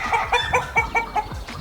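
A rooster on a French farm clucks close by and loudly in a quick rhythmic series of about eight short throaty calls, heard alone with no talking.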